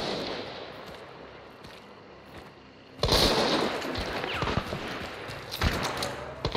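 Gunfire in the first-person shooter Hunt: Showdown, a burst of sharp shots breaking in after a quiet stretch, followed by scattered cracks and reports at middling distance.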